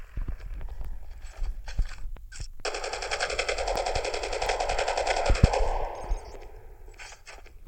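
Machine gun fire in Call of Duty Mobile, a steady rapid stream of shots lasting about three seconds after scattered single impacts, loud and close with no talk over it.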